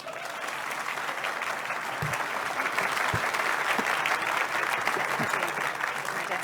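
Sustained audience applause fills the hall after a speech at Davos, dense and steady throughout with a few sharper claps standing out near the front.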